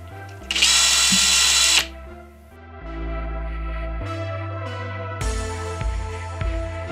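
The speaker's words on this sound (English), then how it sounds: "That is one honking drill bit." Large drill bit boring leg holes in a homemade gaming table: a power drill whines loudly, then runs on in steady bursts with changing motor pitch as the bit cuts into the wood.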